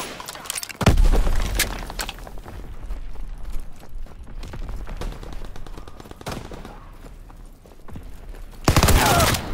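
Gunfire in the shooter game Call of Duty WW2, with loud booming shots and rapid bursts separated by quieter stretches of scattered firing and rumble.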